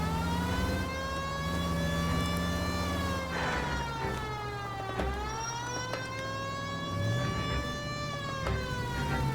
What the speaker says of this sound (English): Thanks for stopping for the sirens, guys.